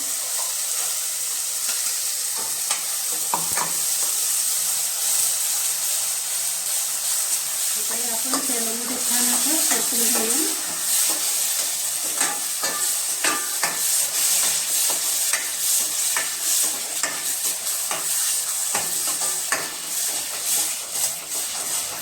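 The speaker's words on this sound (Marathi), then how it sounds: "आपण तेलामध्ये छान परतून दिलं हे वाटून घेतलेलं ते पण यात घालून घेऊया" Ground onion, garlic and masala paste with turmeric and red chilli sautéing in hot oil for egg curry, a loud constant hissing sizzle with spatula scrapes and clinks, and a brief voice in the middle.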